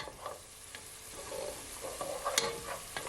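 Curry spices frying in a pot for yellow rice while being stirred, a soft steady sizzle under faint scraping and clinks from the spoon, with a few sharper knocks near the end.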